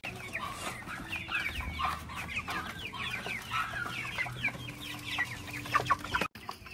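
Broiler chickens clucking in a busy, continuous chatter, several birds at once, with a faint low hum underneath.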